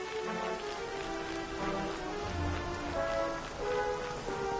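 Steady rain in the video game Dragon Quest XI pours down continuously, a dense hiss of drops drumming on surfaces, with faint low musical tones underneath and no voices.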